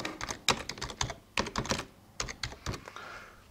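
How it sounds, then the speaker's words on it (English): Rapid bursts of typing on a computer keyboard while entering text into a graphics program, close and clear with short pauses between clusters of keystrokes. "you just simply type in here whatever you like"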